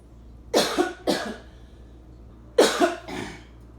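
Two pairs of sharp, close coughs, the first pair followed after a pause by a louder second pair, in an otherwise quiet room.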